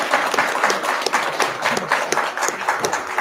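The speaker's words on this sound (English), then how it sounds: "Join me in giving them a round of applause." Audience at a county school board meeting applauds the board members: close, lively clapping from a modest crowd, individual claps distinct and uneven in rhythm, loud and unbroken from start to finish.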